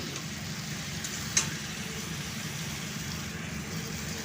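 Ridge gourd stir-frying in a pan with salt, giving a low, steady sizzle throughout, with one brief scrape near the start and no speech.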